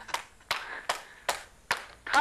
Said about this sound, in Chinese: 掌声鼓励啊